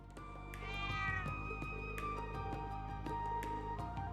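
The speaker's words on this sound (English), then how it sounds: "Oh, a cat!" A cat meows repeatedly in The Legend of Heroes: Trails of Cold Steel 3, a series of tonal, drawn-out meows set over soft background game music, fairly quiet, with no talking.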